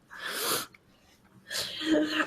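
A person imitates a sneeze with their voice, giving two breathy, hissing bursts separated by a brief pause, close and fairly loud.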